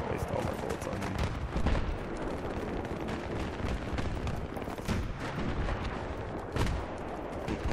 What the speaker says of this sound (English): I'm gonna try to waste all my bullets on him.